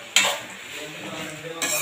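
Tomatoes dropped into a hot pan for a country chicken gravy, opening with a sudden burst of sizzling that settles into a steady fry and swells again near the end, with a few soft utensil clinks.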